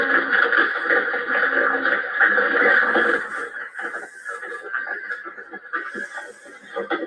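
A horse being whipped by a rider who cannot control it lets out a long, loud whinny that sounds close and carries on in broken, shaky neighing.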